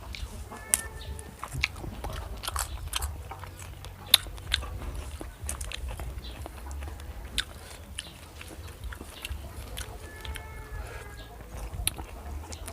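Someone eats soft roasted chicken with sweet-spicy dipping sauce outdoors in the afternoon, with close chewing and wet biting sounds, scattered crunchy clicks and faint birdsong, no talking.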